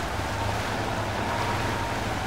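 Truck in the MudRunner video game driving through a flowing river: a steady broadband rush of water and engine rumble, continuous and loud with no pauses.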